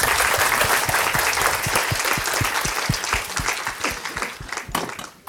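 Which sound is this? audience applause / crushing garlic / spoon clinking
audience applause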